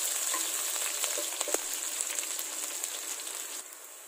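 Onion frying in a pan for fish curry, stirred now and then, giving a continuous bright sizzle broken by scattered crackles and a couple of scraping knocks as the pieces are mixed, with no talking.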